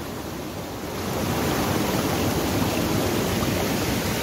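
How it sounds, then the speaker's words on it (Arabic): Water gushes out in a strong, continuous rush, swelling louder after the first second and holding a broad, steady roar, with no one speaking. "شوفوا الماء من خارج تبارك الله الخوت، شوفوا الماء عاوتاني من خارج"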